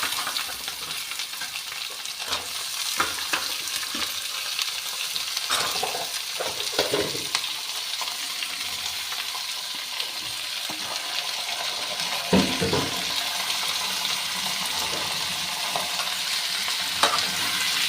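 Potatoes stirred into onions frying in a pan, a steady bright sizzle under repeated scraping and clattering stirring strokes, continuous and close with no talking.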